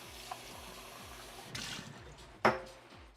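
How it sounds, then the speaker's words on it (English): Water from a tap runs steadily into a container being rinsed, a soft continuous stream with a louder splash near the end, close by and with no talking. "So first things first, give this a quick rinse."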